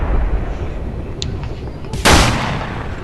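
A gun fires in a video game battle against a tank: one sharp, loud blast cracks out late, ringing briefly over a steady low rumble of battlefield noise.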